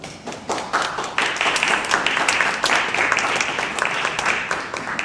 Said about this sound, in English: let's give Dr. Batra another round of applause